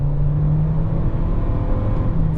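A 2024 Toyota Corolla Cross Hybrid's eCVT drones steadily while accelerating, a sustained low engine hum with a faint rising tone heard from inside the cabin, no voices.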